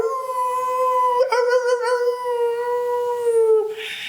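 A human voice imitates a coyote howl close up, a long wavering tonal howl with a brief break in the middle, sung alone without other talk.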